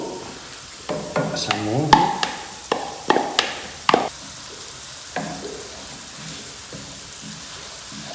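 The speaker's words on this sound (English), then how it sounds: "Locally produced onion in the pan." Locally produced onion sautéing in a hot pan on a stove, a soft frying hiss under scattered clinks and scraping stirs, with a brief spoken remark near the start.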